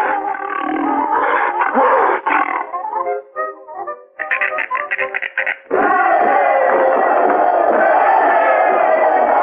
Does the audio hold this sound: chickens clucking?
no